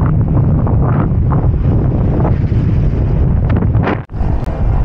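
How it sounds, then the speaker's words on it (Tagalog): Strong crosswind buffets the microphone during a bicycle ride in a loud, continuous roar, with a brief dropout near the end. "Grabe, sobrang lakas ng hangin."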